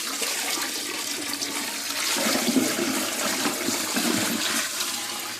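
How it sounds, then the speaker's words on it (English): A toilet flushes as descaling liquid from a tankless water heater is dumped in, giving a close, rushing swirl of water that surges partway through and then continues draining. "We're going to see if we can show y'all this dumping in the toilet."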